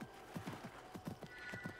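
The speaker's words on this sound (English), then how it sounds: "I like this horse." A horse in the video game Assassin's Creed Mirage gallops with a quick, rhythmic run of hoofbeats at a steady pace, faint and close, with no talking over it.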